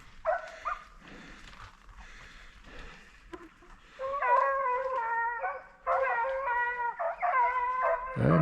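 A dog howls and yips in drawn-out, wavering cries, a few quiet whimpers first, then louder sustained howling bursts close by.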